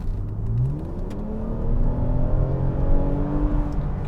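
A 2020 Toyota Camry TRD sports sedan accelerates hard from inside the cabin, its engine note rising in steady revving sweeps over a continuous low road rumble for about four seconds, with no talking.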